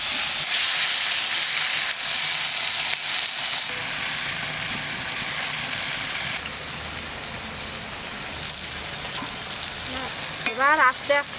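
Freshly added oil in a wok on the stove with fish, white lote fish and tangra, frying, giving a loud, steady crackling sizzle throughout with no voices.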